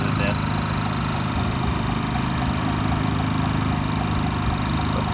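A Generac IQ3500 inverter generator running steadily with economy mode off, a loud, constant close engine drone with no change in pitch. Someone talks over the running generator.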